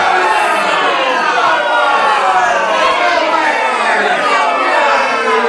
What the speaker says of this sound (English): I wasn't sure if they were hooting me or cheering